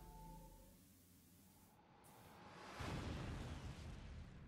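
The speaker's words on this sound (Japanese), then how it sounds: "目の前で爆発が起こり" Explosion in the video game 428 Shibuya Scramble: after a quiet stretch comes a sudden loud blast with a broad rumbling burst that lingers and slowly fades, and no one talks.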